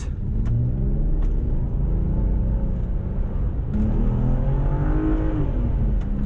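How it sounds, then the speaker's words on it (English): A 2009 Volvo XC60 T6's V6 engine revs and accelerates with a loud, continuous throaty growl, the pitch climbing steadily as it pulls harder, close and without talk. "this nice V6 noise"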